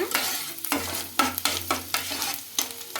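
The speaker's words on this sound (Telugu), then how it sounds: "చిన్నగా తరుక్కున్న వెల్లుల్లి రెబ్బలు అయితే వేయాలి కొంచెం ఇవి ఫ్రై అయినాక" Finely chopped garlic frying in oil in a pan for Chinese-style chilli chicken, a soft steady sizzle with repeated sharp clatters of a spoon stirring against the pan, close and alone.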